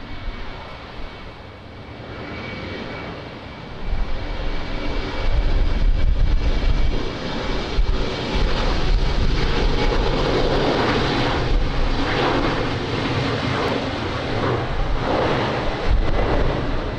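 American Airlines jet on final approach to land on runway 20 at windy Lisbon Airport, a steady loud engine roar with heavy wind buffeting, building after a few seconds and holding strong throughout.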